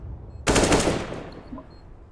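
A sudden burst of rapid AK rifle fire in Counter-Strike: Global Offensive, a dense automatic rattle lasting about half a second before trailing off into echo.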